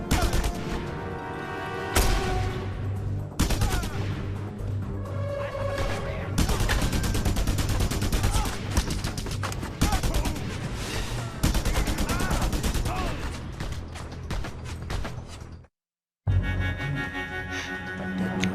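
Dense, continuous gunfire from a Just Cause 2 firefight, rapid overlapping shots and bursts with booms over game music, steady and loud for most of the clip before a brief silent gap and a return of the shooting.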